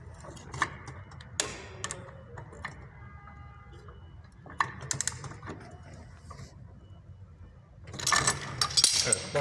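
Metallic clicks and ratcheting taps from a pipe wrench tightening the rear variator nut on an RKS Sponitini scooter, in irregular bursts close by, with a denser clatter of tool contact near the end.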